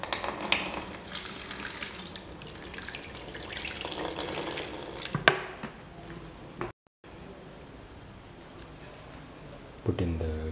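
Water runs from a tap or is poured into a cooking pan holding ripe banana pieces and salt, a moderate splashing stream that stops partway, followed by quieter kitchen handling and a brief knock.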